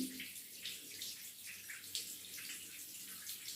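Water drains and trickles from a washed fiber quilt lying in a bathtub, a steady, soft splashing wash with small drips and gurgles throughout and no talking.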